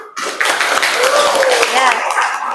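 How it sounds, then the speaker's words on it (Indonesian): A classroom audience applauds after a group presentation, a dense, steady wash of hand clapping that fills the whole moment, with voices talking faintly underneath. "Tepuk tangan."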